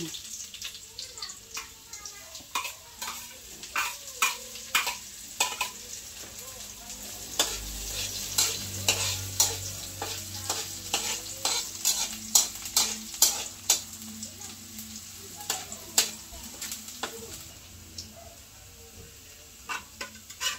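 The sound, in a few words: stirring and frying ginataang chicken liver and gizzard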